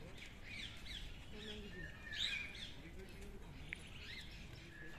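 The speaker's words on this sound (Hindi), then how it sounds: "तो ये है रोज़ रिंग्ड पैराकीट, तोते वगैरह हैं, आम तोते जो आसमान में उड़ते हैं वही सब है यहाँ पे" Rose-ringed parakeets and other parrots call at Chhatbir Zoo in Chandigarh, giving faint, scattered chirps and squawks over a steady outdoor background hum.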